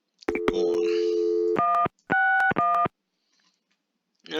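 A telephone number is dialed in the adventure game Gabriel Knight, with a string of close, loud touch-tone beeps in quick bursts separated by short pauses, and no talking.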